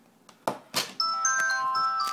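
A Huawei G2100 mobile phone powering on while connected to a cable, giving a few soft clicks and then a bright electronic startup chime of sustained overlapping tones that hold steady, close and clear with no talk.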